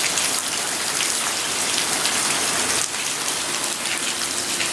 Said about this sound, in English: we've got a little bit more wind and some rain